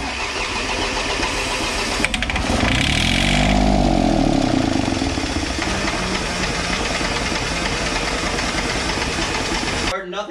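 A Yanmar 3TN82E three-cylinder diesel with a stuck injection pump cranks steadily on the starter for about ten seconds without catching, a loud continuous churning with people talking nearby.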